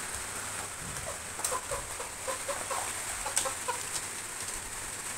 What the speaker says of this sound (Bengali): কয়েকটা দেশি মুরগি